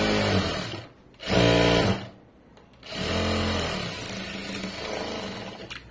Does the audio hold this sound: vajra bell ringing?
no